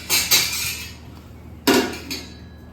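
A spoon scrapes and clinks against a pot while kodri and salt are stirred for a vegetable kodri khichdi, with two bursts of loud, close metallic strokes separated by a pause.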